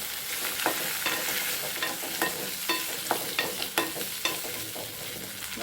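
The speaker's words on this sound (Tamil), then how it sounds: "வதங்கட்டும்." Ginger and tomato sautéing in a pan for a Tamil eggplant, raw mango and cowpea curry, with a steady low sizzle and repeated sharp scraping stirs roughly every half second, close by, with no talking.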